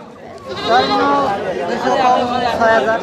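Sheep bleat at a livestock haat in Bangladesh, with several wavering, nasal calls close by that overlap with people talking nearby.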